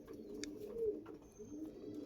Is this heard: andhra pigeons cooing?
yes